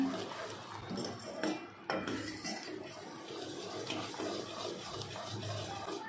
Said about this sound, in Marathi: व्यवस्थित एकदा मिक्स करून घेऊया